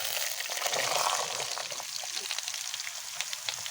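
Chopped papaya goes into browned onions frying in hot mustard oil for a homestyle fish curry, giving a steady, fairly quiet sizzle with crackling pops and no talking.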